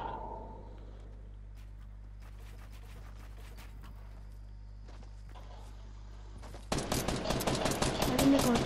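Gunfire in Fortnite: quiet footsteps and scattered distant shots give way to a loud, rapid burst of shooting near the end, with players chatting in the background.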